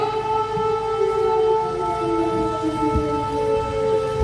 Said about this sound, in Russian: И тут нашему диалогу мешает какая-то непонятная сирена.